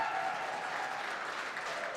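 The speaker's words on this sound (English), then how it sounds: "How about a big Clubhouse Live round of applause for the back-to-back Division I state champion Neenah girls cross-country team" Studio audience applauding for the back-to-back Division I state champion Neenah girls cross-country team on a live sports talk show; steady, dense clapping that holds at an even level throughout, with no voices over it.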